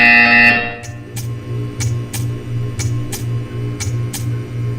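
A harsh electronic buzzer in the video game Portal 2 blares briefly, then gives way to a low pulsing hum with sharp clicks ticking at a steady beat.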